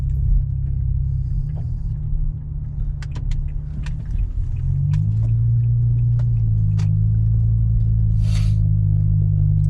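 A car's engine rumbles continuously from inside the cabin while driving, a steady low drone with light clicks and a pitch change midway as the engine note rises.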